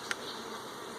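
Honey bees hum steadily at close range around an open hive box during a colony inspection, a continuous buzzing drone with one brief sharp tap near the start.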